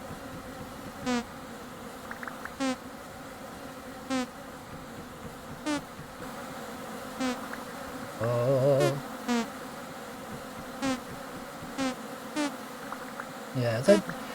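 Bees buzzing around straw skeps in the Vintage Story game, a steady insect drone punctuated by repeated short sharp buzzes at regular intervals, with a brief spoken exclamation partway through.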